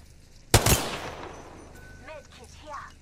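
Gunfire in Apex Legends: a loud close burst of rapid shots, followed by a fading echo, then a few brief chirping game effects.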